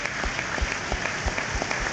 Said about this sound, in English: Everybody around us applauding, everybody around us on their feet